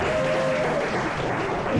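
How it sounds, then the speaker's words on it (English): A stand-up comedy audience gives a dense, even round of applause that holds steady for a couple of seconds without letting up. "Big round of applause for"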